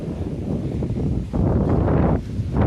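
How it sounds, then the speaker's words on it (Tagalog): Strong wind buffets the microphone in a continuous rough roar, surging louder in gusts partway through, at a lakeside campsite. "medyo malakas yung hangin"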